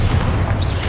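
Bombarda, a blasting spell in Hogwarts Legacy, lands as a short, heavy explosion, a deep booming rumble close and loud for under a second.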